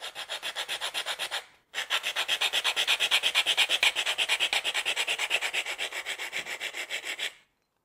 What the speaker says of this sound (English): Next we'll cut some plywood, again using the same tool